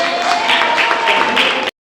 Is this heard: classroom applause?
yes